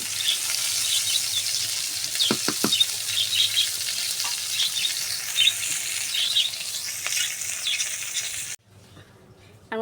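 Cauliflower and potato pieces sizzle and fry in oil in a pan, a bright continuous hiss with scattered scraping and stirring clicks, close and loud, cutting out abruptly near the end.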